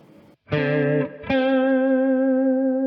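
A clean, smooth electric guitar tone with a shimmering chorus effect from a Walrus Julia pedal: one chord, a short break, then a second chord ringing out and sustaining evenly.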